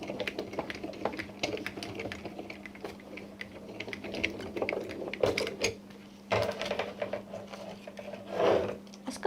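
Small die-cutting machine running a craft panel through at a craft show: a quick run of light mechanical clicks and rattling, close and moderately loud, with a steady low hum underneath and a few brief louder whirs.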